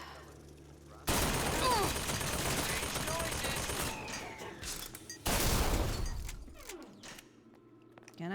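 Gunfire in Bioshock Infinite: Burial at Sea, with loud sustained bursts of rapid shots in two long volleys separated by a brief lull, plus thuds and a sharp crack, all dense and close.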